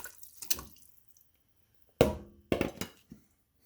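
Desi chicken pieces dropped into a pot of water with ginger for yakhni pulao, a few splashing plops and sloshes in separate bursts, close and fairly loud, with quiet gaps between.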